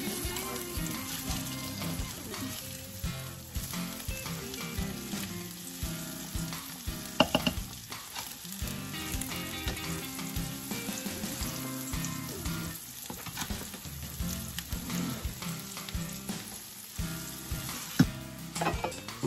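Homegrown eggs frying in a skillet, a steady broadband sizzle running throughout with a few brief clinks and sharper pops, close and fairly loud, no talk.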